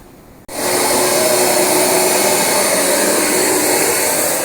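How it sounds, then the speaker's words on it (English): A vacuum cleaner switches on after a short quiet moment and runs loud and steady over carpet, a constant close whine and roar. "we're going to finish vacuuming"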